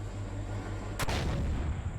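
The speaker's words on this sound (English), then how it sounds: "That shot came from over this direction." A single sharp gunshot in the video game Empyrion: Star Salvage cracks once mid-clip over a quiet low hum, followed by a brief rumbling tail.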